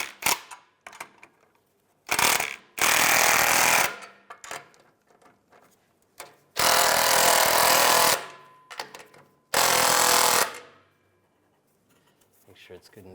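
An impact tool tightens an exhaust clamp on a catalytic converter of a 2006-2011 Cadillac DTS, firing in three loud sustained bursts of a couple of seconds each, separated by quieter clicks and handling sounds.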